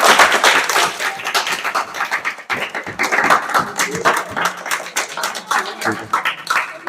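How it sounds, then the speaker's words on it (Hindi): Students in a classroom break into lively, continuous applause, a dense patter of many hands clapping close by, with voices mixed in at times. "जोरदार तालियां भैया।"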